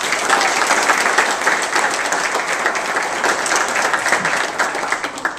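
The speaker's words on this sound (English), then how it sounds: "give yourselves a round of applause" High school students applaud at an education press conference, a steady dense round of clapping that holds evenly throughout at moderate loudness.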